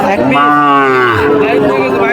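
A Sahiwal cow at a Bangladeshi cattle market gives a loud, close, drawn-out moo lasting about a second, followed by market chatter in the background.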